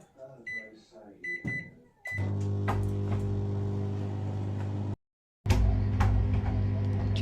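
A microwave oven hums steadily while melting cheese onto sandwiches, starting after a brief stretch of beeps and clicks, pausing for a moment of silence, then resuming its loud, even drone.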